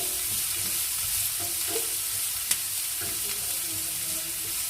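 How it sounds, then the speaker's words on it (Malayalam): Chopped garlic sizzles steadily in hot oil in a pan while a pizza topping is prepared, a continuous close frying hiss with a few soft stirring scrapes and one brief click, no voices. "നമ്മൾ അരിഞ്ഞു വെച്ചിരുന്ന വെളുത്തുള്ളി നമുക്കിടാം. ഇതൊന്ന് ചെറുതായിട്ട് നമുക്ക് വഴറ്റിയെടുക്കാം."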